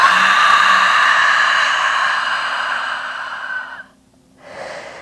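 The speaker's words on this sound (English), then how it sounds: "Take a deep inhale with me and exhale out of the mouth." A long, loud, close breath is pushed out through the mouth for several seconds in a breathy rush during a yin yoga session, then stops briefly before a softer breath begins.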